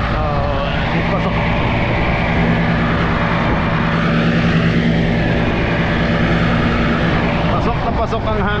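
Fishing boat engine drones loud and steady at close range, a continuous low mechanical roar with wind buffeting, as the boat heads out toward the fishing ground; a voice talks over it.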